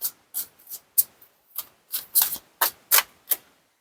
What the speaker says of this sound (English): Usually when I shuffle, if it stays in my hand, there we go.